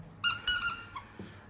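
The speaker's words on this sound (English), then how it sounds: "take the squeaky out of this toy here" A squeaky dog toy gives three quick high-pitched squeaks close up, followed by a fainter squeak and a soft thump in an otherwise quiet room.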